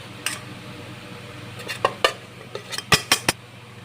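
A spoon stirs Oreo biscuit crumbs into warm milk in a metal pot, scraping and clinking against the sides in a series of sharp, irregular knocks over a quiet background.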